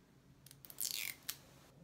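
Protective plastic film peeled off a makeup brush, giving a short crinkly tearing rip alone in a quiet room, then one brief crackle a moment later.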